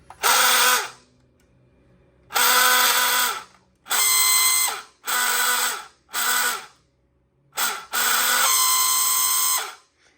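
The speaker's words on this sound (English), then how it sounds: "The buzzer works whether the car's on or off." A toy fire chief car's buzzer squeals in six loud bursts of varying length, separated by short silences, its shrill rising-and-falling wail close to the listener.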